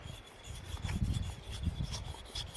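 A knife blade laid flat and slid back and forth on an oiled sharpening stone, a close, continuous rasping rub with rhythmic strokes, no talking.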